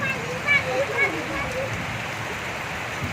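Steady rain falls outdoors during a thunderstorm with wind, a constant wash of drops close by, while faint voices and some scattered chirps sit under it.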